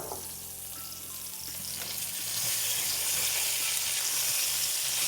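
A ground beef burger patty fries in a pan with a steady, close sizzle that swells louder partway through, heard alone with no talking.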